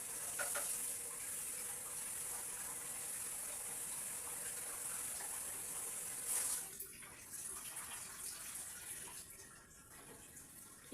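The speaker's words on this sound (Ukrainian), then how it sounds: "треба промити картоплю під проточною водою. Добре промиваю." Tap water runs steadily over potatoes in a colander, a bright hiss that shifts and splashes as they are rinsed, then eases off.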